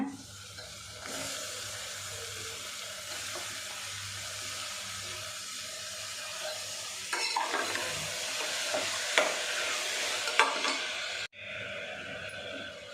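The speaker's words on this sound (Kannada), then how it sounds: "ಫ್ರೈ ಆಗಿದೆ ಟೊಮೊಟೊ ಹಾಕೊಳ್ಳೋಣ" Tomatoes frying in a pan for tomato bath, a steady sizzle with scraping stirs throughout, a louder burst of clatter near the end before a brief cut; no talking.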